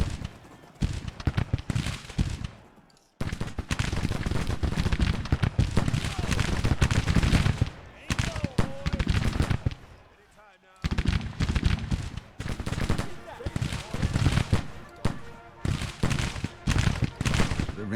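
Civil War troops firing in the Grand Tactician strategy game, with dense crackling musket volleys rolling on and off and brief pauses between them, loud and near, while a voice talks over the gunfire.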